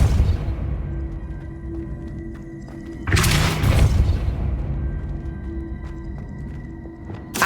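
A Depulso spell cast in Hogwarts Legacy bursts out as a single loud whooshing blast over a low steady hum, then fades back into quiet ambience.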